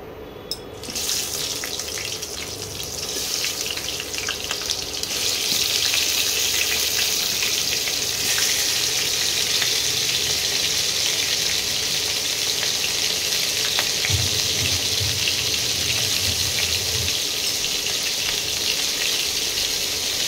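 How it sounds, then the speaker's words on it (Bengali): Crabs go into hot oil in a home kitchen, and a broad, steady sizzle builds and holds loud for the whole stretch. A brief low rumble surfaces near the end, with no one speaking. "তেল গরম হয়ে গেছে, এবারে আমি আস্তে আস্তে কাঁকড়াগুলোকে ছেড়ে দেবো"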